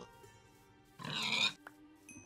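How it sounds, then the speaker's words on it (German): Pigs in the Minecraft video game, swimming in water, let out a short burst of grunting that lasts about half a second, moderately loud over a quiet background. "Da haben wir noch schwimmende Schweine"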